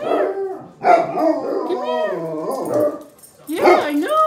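A visiting dog named as a guest howls and barks in long, wavering cries that rise and fall, close and loud, with a short pause before another howl; a person talks nearby.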